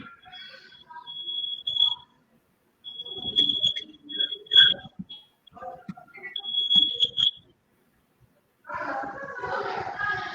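Shrill alarm beeps sound in the background, a few sustained high tones repeating in bursts under people talking on a call-in talk show.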